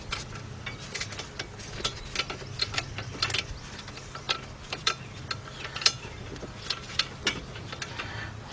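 A socket ratchet turns wheel hub bolts on the left front hub assembly of a 2014 Chevy Impala, with rapid, irregular clicking pawl ticks at close range that come in short bursts, fairly quiet, with no talk.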